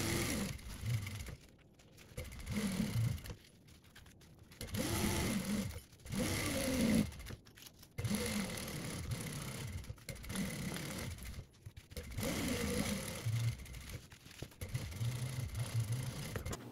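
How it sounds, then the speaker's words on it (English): A sewing machine stitches around the perimeter of a compact panel-loader backpack panel in repeated runs of steady whirring, separated by short pauses, close and fairly loud with no talking. "So I'm gonna sew from one mark all the way around and stop at the other mark."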